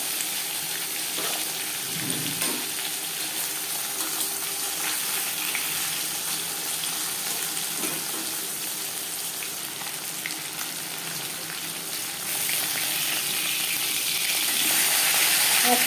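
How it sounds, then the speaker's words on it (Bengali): Pomfret fish frying in hot refined oil, a steady close sizzle and crackle that runs unbroken and grows slightly louder near the end, with no voices. "পরিমাণ মতো রিফাইন্ড অয়েল গরম করে নিয়েছি।"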